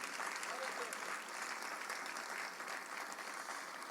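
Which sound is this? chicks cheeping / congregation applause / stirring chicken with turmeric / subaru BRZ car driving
congregation applause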